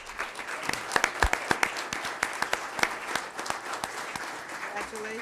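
Scattered, fairly faint applause rises from a school board meeting audience as students leave the stage. Sharp individual claps stand out over a steady bed of clapping, and brief talk follows near the end.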